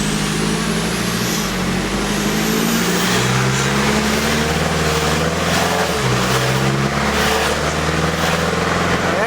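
Turbocharged vehicle fitted with a DT44 Stealth turbo pulling at roughly 30-40% throttle, a steady loud engine drone with rising harmonics as it accelerates, close and continuous with no talking.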